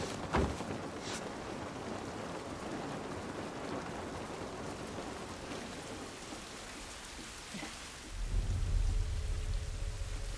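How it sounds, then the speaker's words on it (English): Steady rain falling outdoors in the video game The Last of Us Part 1, a continuous hiss with a low rumble like thunder rising near the end, no talk. "This rain ain't gonna do us any good."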